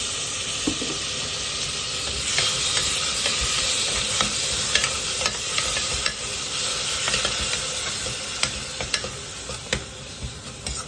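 Egg biryani gravy masala with curd fries steadily in a pan, a constant dense sizzle with light scraping stir strokes and faint clicks layered over it, close and unbroken.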